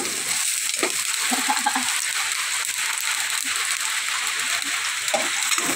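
Garlic and onion sautéing in a hot pan, a steady close sizzle with scattered soft stirring scrapes throughout, no talking.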